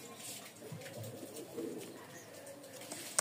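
Several Giribaz pigeons from the same Rajshahi loft cooing, soft overlapping low coos close by, with faint background sounds and a small click at the end.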